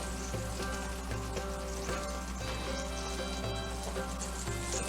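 Pakistani seekh kebabs sizzle steadily as they are pulled out, a soft continuous crackle of frying fat under a faint humming, tonal background.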